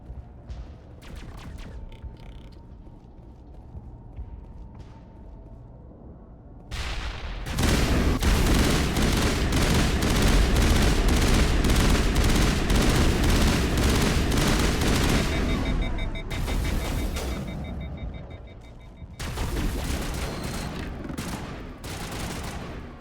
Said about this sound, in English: Shooting chemical rounds.